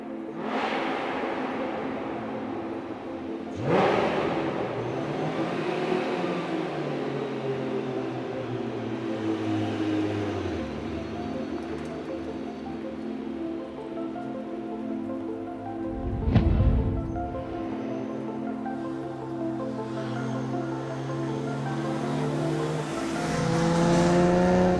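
A Ferrari Testarossa's flat-twelve engine rises and falls through revs, a sustained harmonic roar with climbing and falling pitch sweeps and a sharp burst midway, loud and close.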